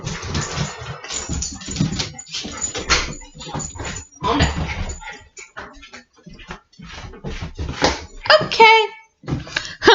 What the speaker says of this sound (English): The dogs are all inside now.